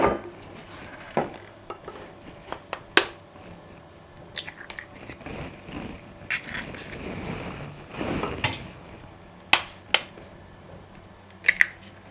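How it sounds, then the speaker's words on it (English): Eggs cracked against a bowl while making an oats omelette, a few sharp sporadic taps and cracks with soft clinks of kitchenware in a quiet kitchen, no talk. "As that is soaking, we're going to work on our eggs. Going to break this."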